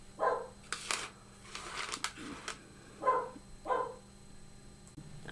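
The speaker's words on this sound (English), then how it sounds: "You may hear my dog barking." A pet dog barks indoors in several separate bursts, with a pair of short barks near the start and two more a few seconds later, moderately loud, with clatter and rustling in between and no talk.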